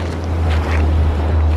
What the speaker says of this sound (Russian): Вот река, которая возле отеля нашего